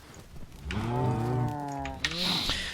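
Cattle mooing in the Minecraft video game, a long drawn-out low moo followed by a shorter second one, clear and close with no talk over it.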